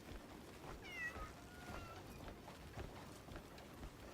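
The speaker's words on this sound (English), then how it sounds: "The best thing has been the levitating cats." A cat in the video game Crimson Desert gives a short, faint meow over a steady background hiss, with soft footstep-like taps through the game's ambience.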